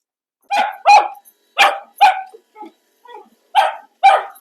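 A dog barks sharply several times in quick pairs, close and loud, with a couple of softer yips between the bursts.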